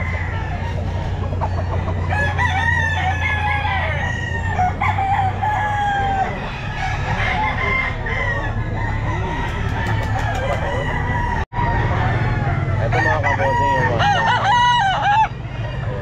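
Several roosters crow repeatedly, overlapping near and farther off, at a busy poultry stall in a pet market, with clucking and a continuous low hum of crowd and traffic underneath and a brief dropout near the end.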